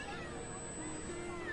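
A cat meows in the fantasy role-playing game Masquerada: Songs and Shadows, a short, thin mewing cry over a steady background hum of game ambience and faint voice babble.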